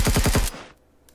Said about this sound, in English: that's a sentry gun